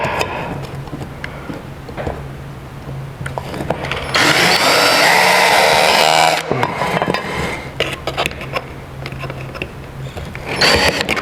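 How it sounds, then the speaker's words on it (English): A power drill whines loudly and steadily for about two seconds in the middle, framed by quieter handling noises and clatter before and after. "So we're gonna do some drilling here."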